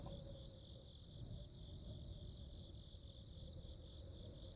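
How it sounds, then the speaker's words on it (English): Crickets in The Darkside Detective game chirp steadily in a faint, continuous high-pitched trill over a low ambient hum, with no other sounds present. "There's a chirping sound from over here. Crickets, maybe?"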